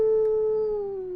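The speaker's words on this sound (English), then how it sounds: "It howls back." A lone wolf howls back in a smooth, sustained tone that slowly drops in pitch, clear and moderately loud for about a second with nothing else heard.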